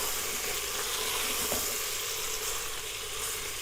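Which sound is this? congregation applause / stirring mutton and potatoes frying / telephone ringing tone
stirring mutton and potatoes frying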